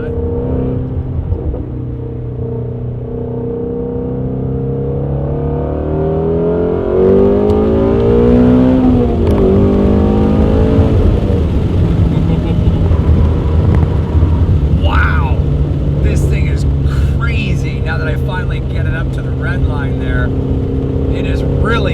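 A Shelby GT350 fitted with a Corsa X-pipe exhaust revs loudly and close by, its deep engine note sweeping up and down repeatedly, with crackles and pops toward the end.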